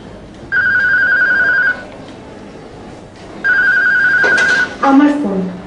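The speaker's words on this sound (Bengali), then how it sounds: "আমার ফোন।" A telephone rings loudly and close in two long electronic trilling bursts separated by a pause, the second cut short as a person starts talking.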